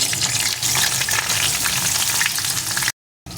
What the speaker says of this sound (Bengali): এখন এই তেলের ভিতরে দিয়ে দেবো কয়েক টুকরো বেগুন